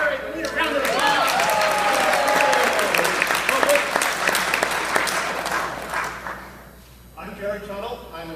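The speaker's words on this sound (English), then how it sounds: "we need a round of applause" A crowd's round of applause, loud and dense for about six seconds before tapering off, with a voice briefly audible over it at the start and talk resuming at the end.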